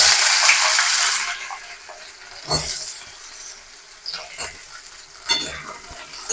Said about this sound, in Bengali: তেলটা গরম হয়ে গেছে, এবার আমি কাঁঠালের বীজগুলো ছেড়ে দেবো।